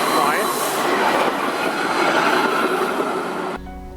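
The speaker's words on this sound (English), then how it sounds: "And they do have streetcars." A streetcar rumbles past on its rails with a loud, steady grinding roar that fills the scene, then cuts off abruptly near the end.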